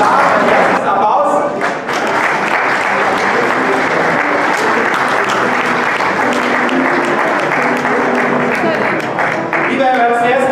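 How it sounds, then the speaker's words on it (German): A large crowd applauds loudly and continuously at a campaign kickoff rally in Berlin-Spandau, a dense, sustained wash of clapping and cheering with voices mixed in throughout. "Vielen Dank für den Applaus."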